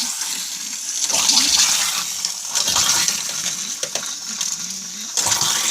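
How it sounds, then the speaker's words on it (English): An RV faucet on a Grand Design Image 2400BH cracked open a small amount during winterizing, water hissing and splashing steadily while the onboard water pump runs, with brief swells and a few light clinks. "So I've cracked the faucet in just a small amount."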